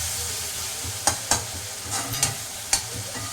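Mutton liver gravy sautés in a pan, a steady sizzle broken by several sharp spoon scrapes and clacks against the metal at irregular intervals, close up and with no talk.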